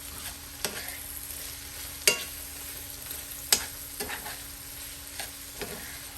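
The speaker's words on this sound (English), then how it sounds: "I'm giving this a stir." A spoon stirs sausage stuffing (dressing) in a pan with a few sharp scrapes and clicks against the pan over a faint, steady sizzle, fairly quiet and without talking.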